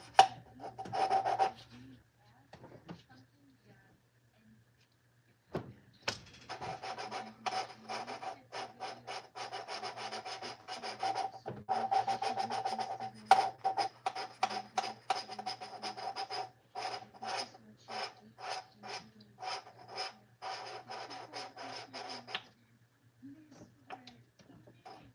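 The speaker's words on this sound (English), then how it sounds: "I'll do just a little more grinding" Valves on a Plymouth engine are ground in by hand during a valve job, giving a long run of close, rhythmic rasping rub strokes at moderate volume with brief pauses between bursts.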